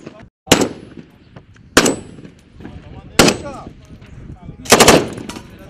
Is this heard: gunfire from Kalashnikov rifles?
yes